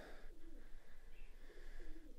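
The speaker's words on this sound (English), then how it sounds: "I can hear a pigeon cooing" A pigeon cooing above an arch inside a 12th-century castle in Tuscany, two soft low coos a second apart, faint and somewhat distant in a quiet interior.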